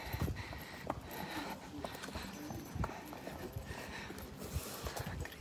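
Horse hooves clip-clop steadily in a riding arena during preparation for a dressage competition, a continuous rhythm of soft thuds over a noisy background.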